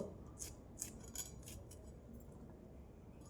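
Vegetables being cut on a board in a home kitchen while cooking a vegetarian meal of spinach and fried eggplant, giving a few quiet, sharp chopping or snipping ticks spaced about half a second apart, faint and without talk.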